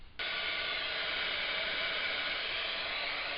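Heat embossing tool blowing steadily while heating up for card making, a loud constant airy rush starting abruptly and continuing alone without pause.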